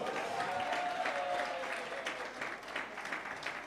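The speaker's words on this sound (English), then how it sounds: "Please put your hands together and welcome Mr." An audience at a DXN event applauds a guest's welcome on stage, steady clapping from many hands across the room, moderately distant, with a faint tone and murmur beneath it.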